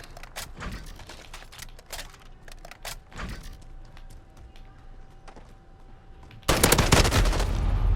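Hip-fired FAL rifle in Modern Warfare: scattered sharp gunshots through the first seconds, then a sustained loud burst of rapid fire near the end, all in a game mix.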